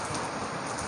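Steady, dense rain patters on surfaces during a rainy day, a constant hiss with no pauses and no voices.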